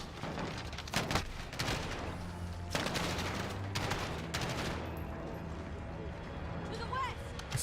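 Kilo 141 rifle fire in Call of Duty Modern Warfare 2019 comes in sharp bursts during the first seconds, then fades, with a voice talking over much of it.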